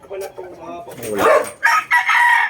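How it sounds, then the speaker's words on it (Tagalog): A Boston Roundhead gamefowl rooster crows loudly and close by, the call rising into a strained, drawn-out cry, with another voice or bird sound layered in at the start. "Ito, mga Boston Roundhead."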